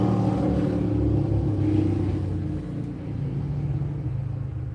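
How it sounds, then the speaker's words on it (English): A motorcycle passes outside, its engine rumbling low and steady before fading somewhat, then lingering as a muffled drone in the distance. "That must have been a motorcycle, actually."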